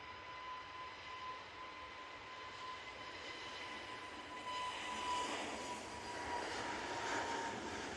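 An EasyJet airliner taking off at Manchester Airport, a steady distant jet roar that swells slightly as it climbs away, no voices.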